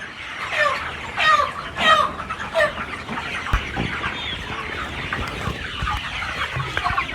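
Several chickens cluck and squawk close by while feeding, in a busy, irregular chorus, with soft scratching and rustling underneath.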